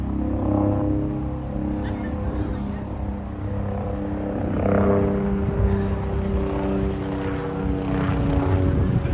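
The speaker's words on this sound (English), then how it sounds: "There's a low-flying helicopter somewhere over here." A low-flying helicopter passes overhead in Brooklyn, New York City, its steady rotor and engine drone loud and continuous throughout, swelling slightly in the second half, with faint street noise beneath.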